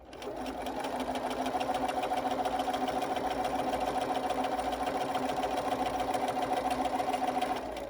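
A sewing machine runs steadily, stitching along the folded edge of a fabric face mask, its fast, even mechanical whir close and continuous for several seconds with no talk over it.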